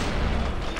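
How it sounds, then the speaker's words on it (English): Grenade blast in the WWII shooter Sniper Elite 4, a loud, dense roar of explosion filling the whole moment with no break, heard alone. "Ah, it is a grenade."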